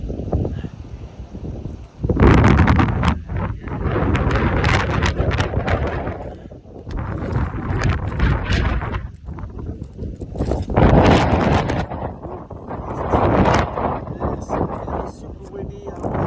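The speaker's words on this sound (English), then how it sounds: "It's super windy." Strong wind gusts buffeting a microphone on a steep roof, a loud continuous roar that surges and fades in waves, with a person talking over it.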